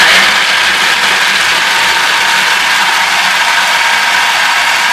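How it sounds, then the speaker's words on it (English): A blender grinds pecans and walnuts for butternut pumpkin soup, giving a loud, close, continuous gritty whir that holds steady from start to finish before cutting off abruptly. "Finally, we need to blend up the pecans and walnuts."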